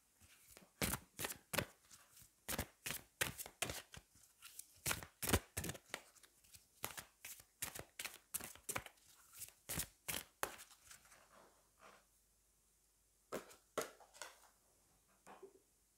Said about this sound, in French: on va aller prendre une carte de l'oracle des fées